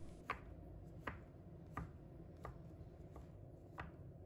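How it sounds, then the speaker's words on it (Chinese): A knife chops sweet potato and taro dough into small pieces on a board, six crisp, evenly spaced strokes, close and alone. "把它切成小粒"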